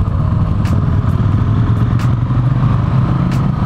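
A 2018 Husqvarna 701 Supermoto single-cylinder engine drones steadily and loudly while being ridden, a constant close-up roar with wind buffeting and no voices.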